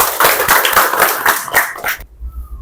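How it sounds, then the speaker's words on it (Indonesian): A classroom of students claps for a classmate in a short, lively burst of overlapping hand claps that stops abruptly, leaving quiet room tone. "Tepuk tangan dulu untuk Dwi."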